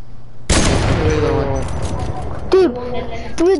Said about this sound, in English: I'm just demolishing you with this hunting rifle.